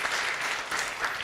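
A church congregation gives warm applause for two members at a training opening service, a brief burst of dense clapping filling the whole moment.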